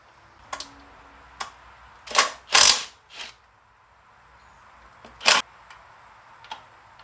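Ratchet wrench clicking out 8mm bolts from the supercharger upper on a 1997 Ford Mustang Cobra, heard as several short bursts of loud ratcheting with pauses between, close by and with no talk.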